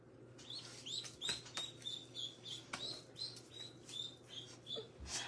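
Newly hatched chicks peep in a brooder, a faint, quick string of thin high chirps over a low steady hum, with light scratches and taps mixed in.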